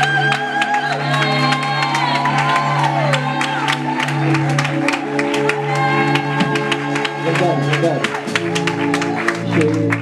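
A church congregation at a gathering of Ivorian worshippers cheers and acclaims the Lord, sustained crowd shouts and whoops blending with clapping and steady music throughout, loud and close.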